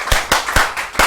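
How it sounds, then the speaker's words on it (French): Children's audience at a kids' show clapping together in a few loud, roughly even claps about a quarter second apart, close and brief. "Alors maintenant, vous allez applaudir pour vous-même parce que vous avez bien crié."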